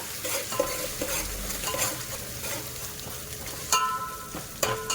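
Onions frying with ginger paste and curry leaves get stirred in a pan, a spoon scraping and clinking through a continuous sizzle, close by with a couple of sharper knocks near the end.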